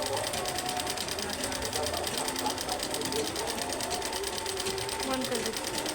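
A sewing machine stitches cloth with a fast, steady mechanical chatter that runs the whole time, loud and close, with faint talk in the background.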